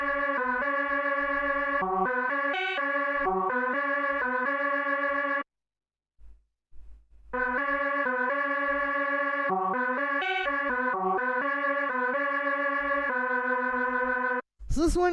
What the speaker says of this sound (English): The next sound that we have here is this little lead